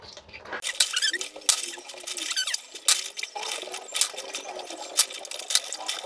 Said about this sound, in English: now the first thing we're going to do is to go ahead and wash the snail